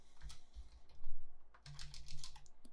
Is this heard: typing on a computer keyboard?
yes